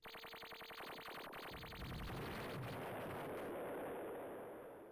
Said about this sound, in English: I'm just going to shoot at this guy a little bit as he and kill him, and then keep shooting at him as he dies.